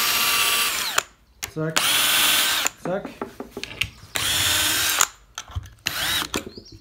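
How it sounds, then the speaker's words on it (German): A power drill bores holes while assembling furniture, with four loud whirring bursts of about a second each separated by short pauses, and a person speaks briefly between them. "Und dann kann man auch schön hier bohren."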